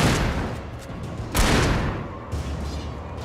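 Gunshots fired at an enemy in the video game Alan Wake, heavy booming blasts with long decaying tails, two or three shots loud and close with no talking.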